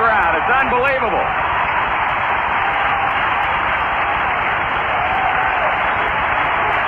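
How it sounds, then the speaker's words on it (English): Packed baseball stadium crowd at Reds vs. Expos, 1978, roaring for Pete Rose's 3,000th career hit, a loud sustained wall of cheering and applause throughout, with a brief rising tone near the start. "Listen to this crowd in the background. It's unbelievable."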